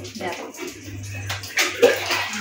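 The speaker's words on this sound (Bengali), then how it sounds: "তো আমি এগুলো একটু ধুয়ে দিই" Kitchen items being rinsed and washed with water scooped from a bucket at a sink, with splashing and trickling close by, a few louder sloshes near the end.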